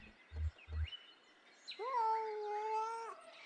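After two dull low thumps, a cat meows once in the video game Kentucky Route Zero, a long sustained tonal cry over faint ambient game sounds.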